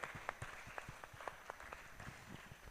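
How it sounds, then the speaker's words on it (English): Audience at an innovation conference gives a round of applause, distinct individual claps in a fairly regular rhythm, moderately faint and slightly distant, with no talk over it. "Let's have a round of applause for them."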